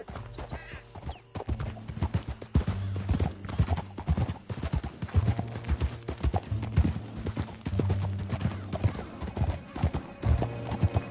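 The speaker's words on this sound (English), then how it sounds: "Back on your horse. Let's get after them." Rapid rhythmic hoofbeats of a horse galloping in Red Dead Redemption 2, steady clip-clop pounding close up across the whole stretch, with tack rattling and a faint snort in the mix.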